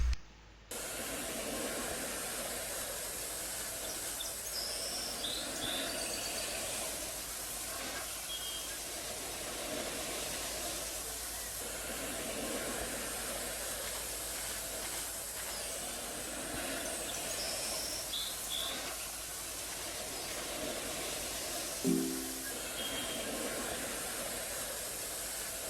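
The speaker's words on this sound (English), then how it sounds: "you basically just spray it down till the current clean state reaches 30" A spray hose washes down a tank in the game Tank Mechanic Simulator, a steady, loud hissing rush that runs almost unbroken, with a few faint electronic beeps over it.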